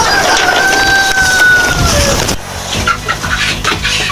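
Chickens kept at an allotment give a drawn-out crowing call followed by shorter clucking sounds. The calls are close and loud over a steady, rough outdoor background.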